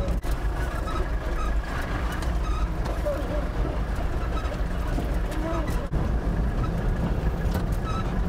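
A car rolls across a rough field track near Yurivka, with a steady broadband rumble of engine and tyre noise that runs throughout, bumping and rattling over uneven ground and peaking in a sharp jolt near the end.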